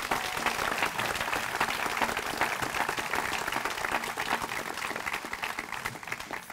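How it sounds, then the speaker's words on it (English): Sustained applause from newly sworn citizens and guests in a courtroom naturalization ceremony, a dense, even patter of many hands that carries on steadily. "Let's have a round of applause for you all."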